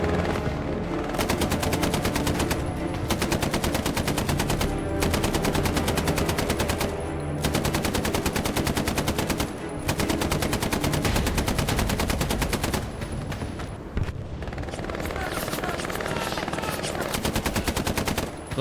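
Long, loud bursts of machine gun fire in Hell Let Loose, a WWII trench fight, hammering in extended strings broken by brief pauses, with a few scattered shots near the end.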